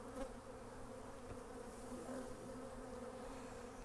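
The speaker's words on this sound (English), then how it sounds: "I still feel that bee crawling around in there." A steady low hum from many bees swarming around two beehives set on a pallet. The buzz continues unbroken and fairly quiet, and no one speaks.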